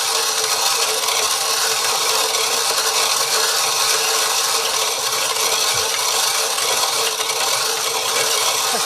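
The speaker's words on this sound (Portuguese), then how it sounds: "Coloca aqui no moinho e começa a moer." Coffee beans are ground in a hand mill, giving a steady, close, gritty rasping and crunching that runs continuously without pause.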